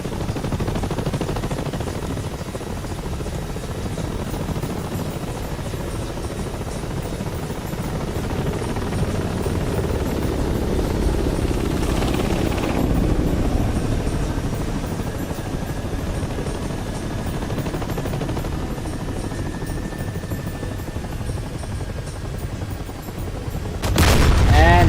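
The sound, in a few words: helicopters in a dogfight in the video game DCS World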